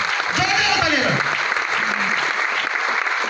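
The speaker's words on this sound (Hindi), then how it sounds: "तालियां होंगी सर, जोरदार तालियां सर।" Loud, dense audience applause fills a motivational event hall, steady and continuous throughout, while a voice speaks over it near the start.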